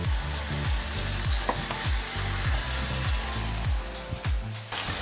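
Butter chicken curry sizzles and fries in a pan, a dense steady crackle with repeated scraping stirs and clinks, close and alone without talk.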